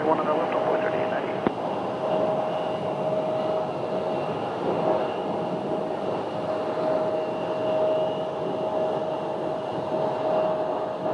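Airliner engines at Phoenix airport hum and roar steadily with a sustained whine, moderately loud, while radio talk plays over them.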